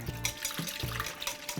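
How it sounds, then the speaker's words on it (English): Milk is poured into a bowl of cracked eggs for a custard, a short close liquid splash and trickle with light clinks, under background music. "So just pour it in"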